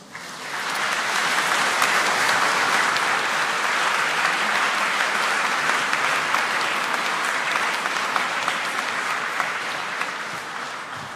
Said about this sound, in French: Je suis sûr que ces applaudissements te remerciaient